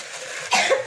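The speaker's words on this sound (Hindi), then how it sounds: "ये क्या खांसी हो रही है?" A single cough from a person at home, close to the microphone: a brief harsh burst after a moment of quiet room tone.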